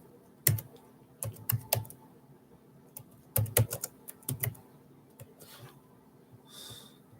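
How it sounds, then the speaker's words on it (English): Typing on a computer keyboard into a search bar: close, sharp clusters of key clicks in irregular bursts with pauses between, plus a faint breath and a soft sniff near the end. "Do I just type it in the search bar?"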